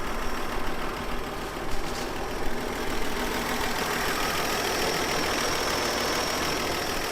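An abandoned 1954 Chevy Bel Air engine running steadily after restarting, a loud, continuous close-up drone with a slight unevenness early on, no voices.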